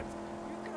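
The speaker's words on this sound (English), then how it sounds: "Listen to that engine." Car engine revving loudly in the Mad Max video game, a steady low drone running throughout under continuous talk.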